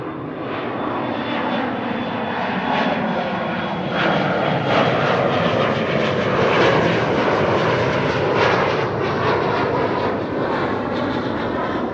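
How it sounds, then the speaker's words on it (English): American Airlines jet taking off from runway 24 at Amsterdam Schiphol, a loud, steady engine roar with a thin high whine, holding strong across the whole stretch with no voices. "that's very much looking like an American Airlines to me"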